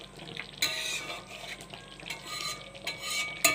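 Chicken coated in spice paste with a splash of water is stirred and fried in a pan, with intermittent scraping bursts from the spatula over a low, sputtering sizzle.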